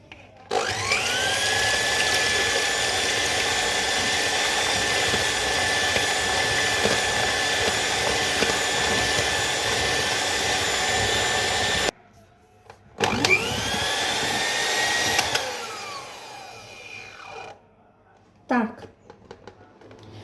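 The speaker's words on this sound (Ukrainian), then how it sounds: "висипаємо 60 грам цукру сюди в білки. І починаємо зараз узбивати до піків." An electric hand mixer whips egg whites with 60 grams of sugar toward stiff peaks for a classic tiramisu, a steady loud whirring drone that stops briefly, restarts, then cuts off near the end.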